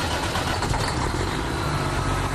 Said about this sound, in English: The engine of his semi rumbling to life.